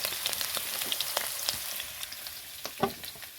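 Steady hissing sizzle of food frying in a pan, with small pops and occasional utensil scrapes, close by and without speech.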